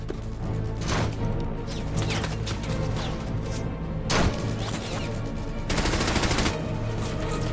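Battle gunfire erupts in bursts, with loud sharp shots and rapid automatic volleys cracking close by, clustered at the start, the middle and near the end.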